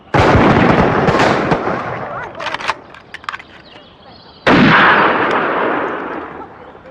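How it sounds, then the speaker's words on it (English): A regiment fires rifle volleys on parade, two loud, dense crashing bursts of massed gunfire a few seconds apart, each with a long rolling echo, separated by quieter clattering sounds. "One round of volley fire. Take aim!"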